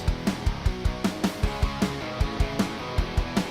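Unmixed tracks of a rock band's song played back in a mixing session: a steady, punchy drum beat with regular kick and snare hits driving layered guitars, moderately loud and without talk.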